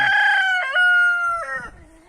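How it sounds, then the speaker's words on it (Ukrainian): A rooster crows once nearby, a loud drawn-out cock-a-doodle-doo with pitch breaks, fading at the end. "І ось ходить півник, цей чужинець."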